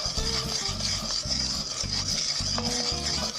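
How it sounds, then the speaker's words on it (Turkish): Steady scraping and stirring in a pot as flour roasts in oil, a spoon rasping repeatedly against the bottom with a faint sizzle underneath, close and continuous. "Üzerine ununu ekleyip pembeleşinceye kadar kavuruyorum."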